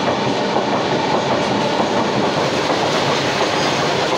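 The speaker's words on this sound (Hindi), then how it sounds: "ये आप देख सकते हैं गुड्स ट्रेन क्रॉस हो रही है" A goods train rolls along the main line past platform 1 at Bareilly Junction in India, a loud, continuous rumble with clickety-clack of wheels over rail joints and occasional faint squeals, close by and without talking.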